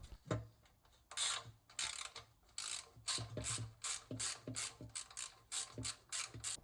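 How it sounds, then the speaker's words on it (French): Ratchet wrench snugging oil pan bolts on a BMW E30, a rapid run of close, crisp clicking bursts repeating in short strokes with brief pauses, loud and alone. "Et on continue de resserrer. Ben, j'ai resserré au cliquet, j'ai pas forcé."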